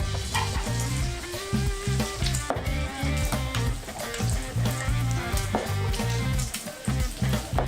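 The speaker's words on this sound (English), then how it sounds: "Now while that bacon finishes cooking" Bacon cooks in a skillet, giving a loud, dense, continuous sizzle and crackle close by, with pulsing swells that rise and fall throughout and no voices over it.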